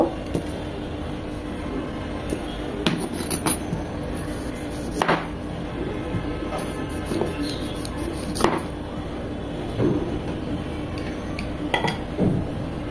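Beetroot being cut with a knife for beet juice, heard as scattered close knocks and chops on a board amid steady kitchen background noise.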